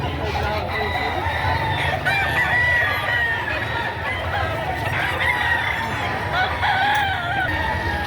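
Many chickens and roosters crow and cluck continuously at a busy chicken market in Padre Garcia, Batangas, a dense overlapping chorus close by throughout, with faint voices underneath.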